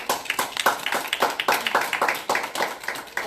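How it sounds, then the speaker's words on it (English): A small audience at a talk on healthier choices claps for a presenter, the sharp hand claps falling in a quick, fairly regular rhythm and staying steady and close for the whole stretch. "Why don't we give her a round of applause?"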